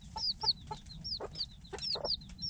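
Two hens cluck softly while looking after their chicks on a freezing day, with repeated short clucks and higher chick peeps overlapping close by in a steady, busy rhythm.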